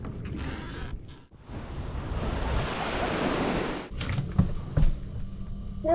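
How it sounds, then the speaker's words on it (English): Waves crashing on a beach near Navarre, Florida, a steady loud wash of surf rolling in with brief gaps, close and continuous with some wind. "that's Cornish for the sound you hear over there, waves crashing"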